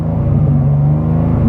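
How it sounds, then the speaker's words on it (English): Engine of a 2023 BMW M2 with a manual gearbox holding a steady high rev, a loud, close, buzzing drone with a constant pitch throughout. "All right, Brian, we're in the 2023 controversial BMW M2"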